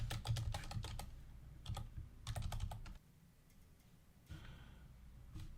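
Rapid bursts of keystrokes on a computer keyboard as a virtual machine name is entered during Azure setup, fairly close and clear, pausing midway before a final short flurry, with no talking.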